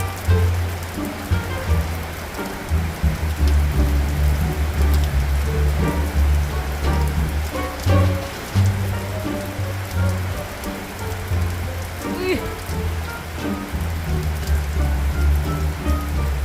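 Heavy rain pattering steadily on a surface close by, a dense continuous patter with occasional louder drops and no talking.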